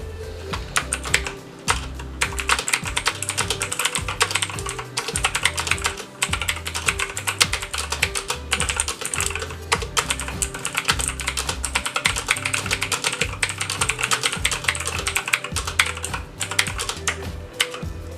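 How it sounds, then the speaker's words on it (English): Rapid, steady keystrokes on a TLOTS TS-GM315 budget mechanical gaming keyboard with chroma backlighting, clattering continuously for the whole stretch at close range with no voices. "how does this keyboard actually sound like when it's typing? Well, I did a little short clip of that,"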